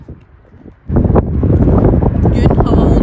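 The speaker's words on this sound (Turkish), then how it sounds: "Bugün hava oldukça rüzgarlı" Strong gusts of wind buffet the microphone after a quiet start at the Three Beauties fairy chimneys in Cappadocia, a loud continuous rumble that fills the rest of the clip.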